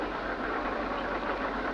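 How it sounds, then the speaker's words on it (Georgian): A tractor engine running steadily and loudly close by, a continuous rumbling drone with no breaks and no talk. "ჩემი ტრაქტორია."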